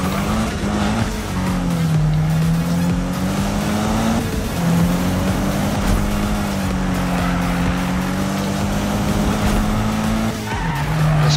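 A car skids and drifts in the racing video game Need for Speed. A loud, continuous engine drone with wavering pitch runs under long tire squeal, with brief dips, and no voice is heard.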